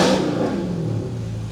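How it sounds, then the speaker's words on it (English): A Dodge Charger Scat Pack with a Corsa Touring exhaust revs near 3,000 RPM, heard from inside the cabin with the window down: a loud, steady engine drone that slowly falls away. "I'm gonna give it a few revs."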